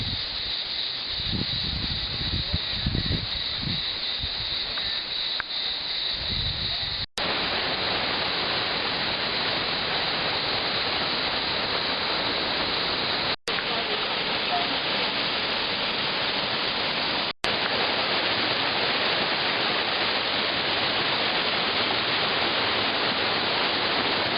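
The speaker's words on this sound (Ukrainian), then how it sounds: "крізь які просочується, протікає водичка і є водоспади" A waterfall in a narrow, mossy canyon in Turkey roars as a loud, dense, unbroken rush of falling water that fills the space close by, with some faint low rumbles early on and no talking.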